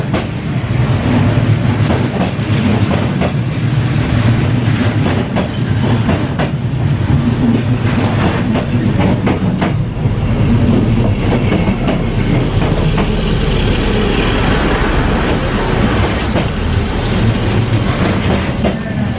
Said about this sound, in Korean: 열차가 지나가고 있습니다.